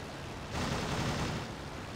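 Machine gun fire from a World War I biplane in the flight sim Rise of Flight, a short dense rattling burst lasting under a second over steady engine and wind noise.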